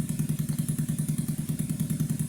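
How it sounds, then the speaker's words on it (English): A motorcycle engine idles close by with a steady, even, lumpy throb, regular low pulses and light mechanical clatter, no revving. "you guys can enjoy the sound of this beautiful bike"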